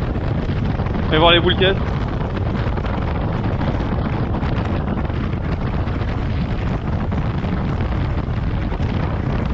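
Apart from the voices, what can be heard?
wind noise while riding motorcycle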